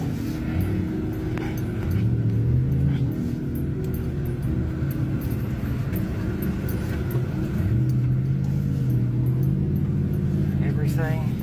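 A car engine roaring as the vehicle speeds away from a California wildfire, a steady loud rumble throughout with rising engine tones, while people talk anxiously over it.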